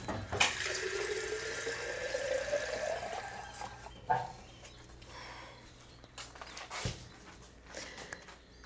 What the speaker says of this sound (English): make sure that you fill your vase up with water.